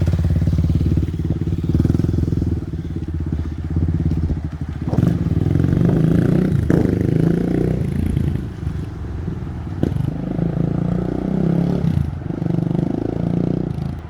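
A souped-up Kawasaki KLX351 dual sport motorcycle engine revs and drones steadily while riding, loud and close, with throttle swells and a few clattering knocks along the way.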